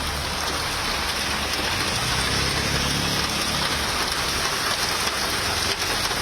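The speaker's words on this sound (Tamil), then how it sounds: "பூந்தமல்லி, மாங்காடு, குன்றத்தூர், கோவூர் உள்ளிட்ட இடங்களிலும் கனமழை கொட்டியது" Heavy rain pours down in Chennai, a dense, constant roar of drops hammering surfaces with no letup, loud and close throughout.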